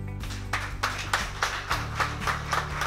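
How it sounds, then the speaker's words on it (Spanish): At a Christmas party in San José de Ocoa, the audience claps in a steady, even rhythm of about three claps a second over sustained background music, sharp and fairly close. "Y eso yo creo que merece un aplauso"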